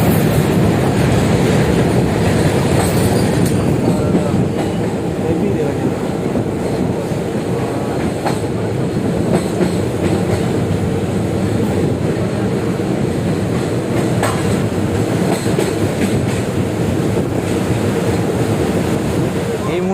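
The 12363 Haldibari Intercity Express, running between Kolkata and Haldibari, rolls along at speed. Heard from inside a coach, it produces a loud, constant rumble and rushing noise with faint wheel clatter, sustained throughout.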